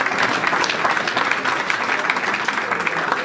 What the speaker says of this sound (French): j'aimerais que tout le monde applaudisse les éducateurs du club.